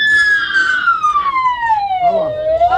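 A child imitates an ambulance siren with a long, loud wailing voice that glides slowly downward in pitch and then rises slightly at the end, heard up close.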